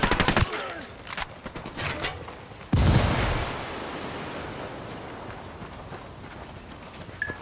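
Gunfire in a Ghost Recon Wildlands firefight: a sharp burst of shots, then a heavy blast that trails off into a long rumbling decay, with faint voices in the background.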